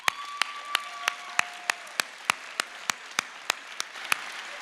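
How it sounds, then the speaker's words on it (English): Applause at a Missouri Baptist University alumni gathering: a few hands clapping in a sparse, steady rhythm of sharp, distinct claps, fairly close in a quiet room, with no speech. "I just want to give a round of applause for Missouri Baptist University"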